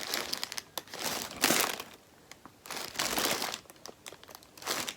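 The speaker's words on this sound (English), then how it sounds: "hang on for the rustling." Plastic packaging crinkles in loud bursts while knitting with yarn, irregular crackly rustling that swells and fades several times, close to the microphone with no talking.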